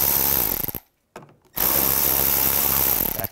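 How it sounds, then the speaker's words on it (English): A power tool whirring on screws in a BMW 550i with a 4.8L V8, running loud and steady, cutting out briefly, then resuming. "Just use an 8 millimeter socket."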